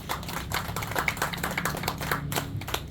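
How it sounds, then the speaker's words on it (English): Scattered applause from a small crowd honoring an angler's catch at a bass tournament weigh-in on Bull Shoals Lake, a steady patter of clapping hands lasting throughout. "Give her a round of applause on that fish."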